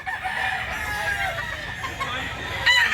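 Gamecock roosters cluck and crow close by, with a sharper crow near the end over a low, steady background.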